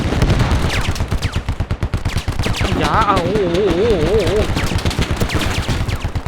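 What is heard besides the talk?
gunfire in a video game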